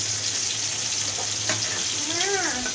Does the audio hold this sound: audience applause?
no